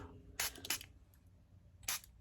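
A small spritz bottle sprays water in three short, hissy bursts, two close together and a third after a pause, each a brief mist-like puff over a quiet background.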